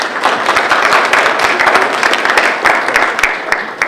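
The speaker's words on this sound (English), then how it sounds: "So a big round of applause for all of you." Audience applause at a chamber of commerce breakfast hosted at a Boys and Girls Club, steady dense clapping from a room of people filling the moment without a pause.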